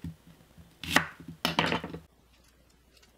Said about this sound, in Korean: 양파를 잘라주세요.